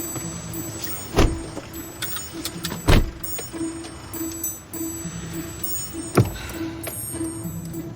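Interior of a moving car: a low steady road and engine hum runs throughout, broken by a few sharp thumps and clicks, with no one speaking.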